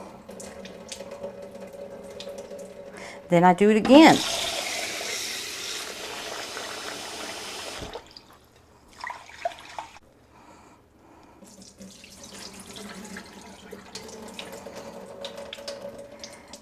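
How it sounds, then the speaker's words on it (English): Water rushes and splashes loudly for several seconds as rice is rinsed and the water drained off, then trickles away into quieter kitchen sounds; a person talks briefly. "I stir it around, let it settle, then I just drain that water off."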